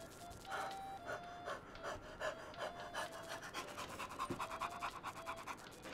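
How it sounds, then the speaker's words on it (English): A person pants rapidly right into a microphone in quick, rhythmic breathy huffs, close and intimate, continuing for several seconds with no words spoken. "There you get you got a panting noise from me. Right in your ear."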